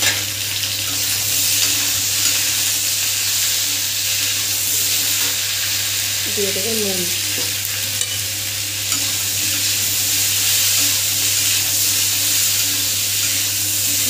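Fried potatoes with chopped tomato and onion sizzle and crackle steadily in a pan, a constant close frying hiss; a voice speaks briefly in the middle.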